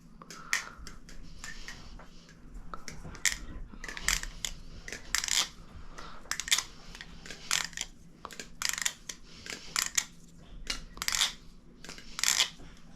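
Rapid metallic clicks and clacks repeat in irregular bursts, close and crisp, as a Glidr Nautilus butterfly knife fitted with custom scales is flipped open and shut over and over.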